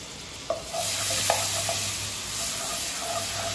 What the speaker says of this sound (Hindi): बटर हमें मेल्ट होने देना है।